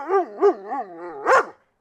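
At an animal rescue shelter, a single dog close by gives a short run of whining, yipping barks, about four in a row, loud and clear with no one speaking.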